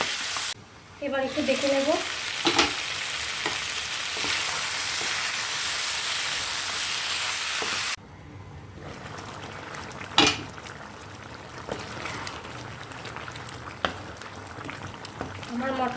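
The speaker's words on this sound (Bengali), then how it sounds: "এবার এর মধ্যে আমি মাটনটাকে দিয়ে দেবো।" Mutton pieces and fat fry and simmer in a pot for bachelor-style biryani, a loud, steady sizzle that drops to a gentler bubbling hiss, with occasional stirring clatter and someone speaking briefly over it.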